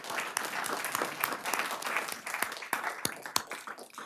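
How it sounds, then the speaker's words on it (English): A city council meeting audience claps for a member, a fairly thin round of applause from a modest crowd with distinct individual claps standing out, steady for several seconds. "So we're going to give David an applause for his pre-swearing in."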